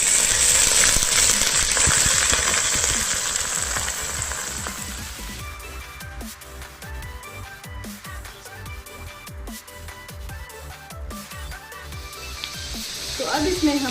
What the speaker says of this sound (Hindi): अब इसमें हम डालेंगे कटे हुए प्याज